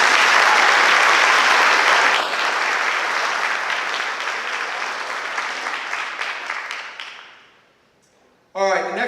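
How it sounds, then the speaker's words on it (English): Audience applause for award recipients at a high school senior awards ceremony: loud, dense clapping that fades away over several seconds before a voice begins speaking at the end. "Let's give them a round of applause."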